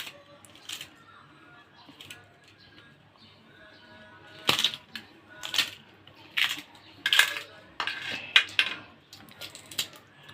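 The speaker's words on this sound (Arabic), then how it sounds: "خرطنا على البصل ونخرط عليها قرنين فلفل رومي" Two bell peppers being sliced over onions in a home kitchen: sharp knife chops land on a board at an irregular pace, several crisp cuts, close and fairly loud with quiet background.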